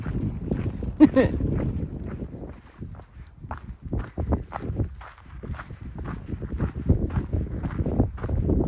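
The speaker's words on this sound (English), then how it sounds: "Woo! It's windy. It got windy." Strong gusting wind buffets close by in rough, uneven rushes on the Pacific Crest Trail near Mount Laguna, with hiking footsteps crunching underneath throughout.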